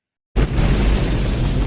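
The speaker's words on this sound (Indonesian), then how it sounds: "tiba-tiba truk yang membawa Marion itu meledak saat truk itu terbalik" A truck blows up in an Indiana Jones film scene: an abrupt loud blast bursts in after a moment of silence, then a sustained roaring, rumbling fire fills the rest, close and overwhelming.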